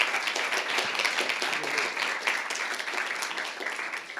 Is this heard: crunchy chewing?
no